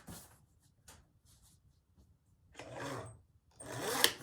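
Paper being straight cut with a blade on a cutting board: a few faint scrapes followed by two louder, longer slicing strokes, close and without talk.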